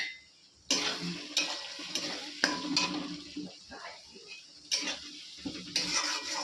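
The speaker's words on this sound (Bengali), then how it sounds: "এখন আমি বানাচ্ছি টাকা পাস্তা সিদ্ধ করে রেখে দিয়েছি" Boiled pasta being cooked and stirred in a pan in a home kitchen: quiet, irregular scraping and stirring strokes with soft sizzling, close and alone.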